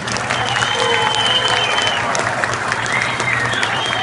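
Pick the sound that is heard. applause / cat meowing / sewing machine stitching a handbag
applause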